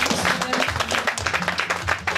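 A church congregation applauds in quick, uneven clapping, fairly close, with voices mixed in under the claps.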